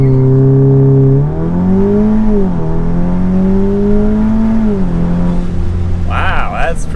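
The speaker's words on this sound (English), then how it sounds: "Let's see what launch control is like in this car real quick." An Audi S3 fitted with an AWE SwitchPath exhaust launching hard under launch control, a loud close engine rising in pitch through gear shifts with brief dips, ending in a short burst of excitement from occupants.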